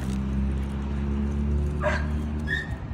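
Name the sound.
dog whimpering and barking in a played recording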